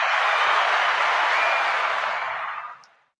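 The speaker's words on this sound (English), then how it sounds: "We give you a round of applause" Crowd applause sound effect, a dense burst of clapping that holds steady and then fades out quickly over about three seconds.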